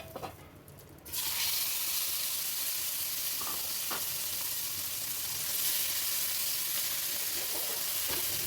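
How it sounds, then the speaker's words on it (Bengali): Gourd seeds with a pinch of asafoetida hit hot oil in a wok. After a quiet first second, a loud, steady sizzling hiss takes over, with faint stirring knocks under it. "তারপর একটা কড়াই একটু গরম করে ওতে একটু তেল দিয়ে সামান্য হিং আর ওই মাখানো বীজগুলো আমরা এতে ভালোভাবে নেড়ে নেব।"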